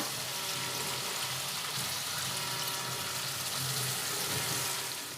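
Spice-rinse water is poured into a pan of onions while cooking a desi chicken curry. A soft, steady hiss of sizzling liquid runs throughout at low volume, with no voices.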